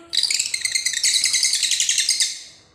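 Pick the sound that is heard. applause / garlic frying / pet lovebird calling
pet lovebird calling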